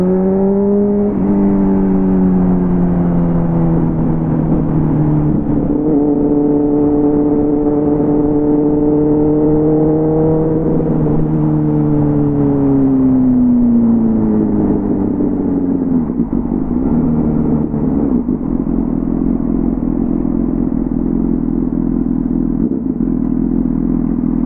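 A motorcycle engine runs continuously with a rough, humming drone whose pitch rises and falls with the revs, loud and close with no voices.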